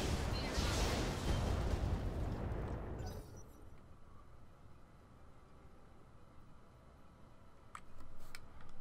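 Missiles fire in the BattleTech mech game with a loud, dense roaring barrage that lasts about three seconds. It cuts to quieter rumbling background with a few faint ticks afterward.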